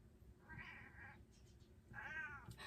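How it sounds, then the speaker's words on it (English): A cat meows loudly twice, a drawn-out yowl followed by a pause and then a second, rising caterwaul, close by with no talking. "my cat is yelling right now."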